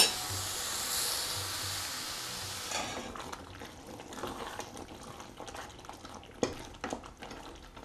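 Egusi soup is stirred in a pot, with a bubbling wash of liquid at first giving way to quieter scraping and soft sloshes, with one sharp clink.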